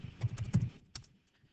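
Quick run of computer keyboard keystrokes while typing a search, close and fairly quiet, a burst of clicks followed by a couple of final taps.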